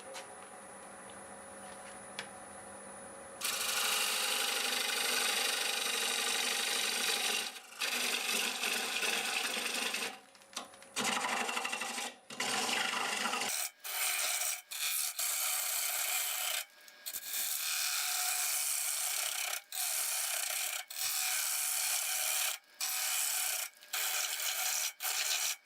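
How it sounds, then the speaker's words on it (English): A half-inch bowl gouge cuts a wooden bowl blank spinning on a lathe at 700 RPM, giving a continuous loud rasping scrape broken by short pauses between passes, with no talking. "We'll start with a 1/2 inch bowl gouge and just start working some of the material away."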